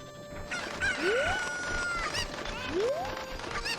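Chickens in Zelda: Ocarina of Time, clucking and crowing in clear repeated bursts with rising squawks, loud and close, with faint game background underneath.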